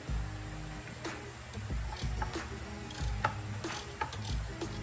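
A ratchet with a T50 hex bit turns a soaked rear subframe bolt on a 2008 Infiniti G35, giving a steady, close stream of fine mechanical clicking with dull knocks of effort mixed in.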